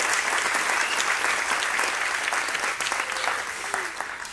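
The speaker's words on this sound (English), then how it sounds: "Everybody, please, another round of applause for Jess Irwin and Steve Dalby." An audience at a launch event applauds with dense, continuous clapping that holds steady before tapering slightly toward the end, heard at moderate volume without talk.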